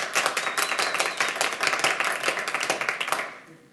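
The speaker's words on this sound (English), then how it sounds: "If you want to give them a round of applause right now" Audience at a 2011 Ogden mayoral debate breaks into brief, moderately loud applause, a dense patter of clapping hands that fades out at the end.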